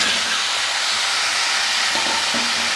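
Cut potatoes hiss loudly in hot oil in a wok, a dense, continuous close-up sizzle holding steady throughout with faint clatter underneath.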